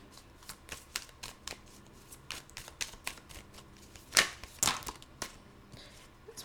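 Tarot cards riffle-shuffle close up in quick flicking bursts, with two louder flurries as a bunch spill out, otherwise a quiet room.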